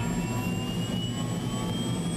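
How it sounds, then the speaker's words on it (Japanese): Helicopter engine roaring steadily during departure, a dense, constant low rumble with a high whine above it, loud and unbroken throughout with no voices. "我々はティルトン夫人と共にその地下秘密施設の在りかを突き止めるためヘリコプターで出発した。"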